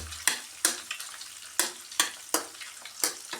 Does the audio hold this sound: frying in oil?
yes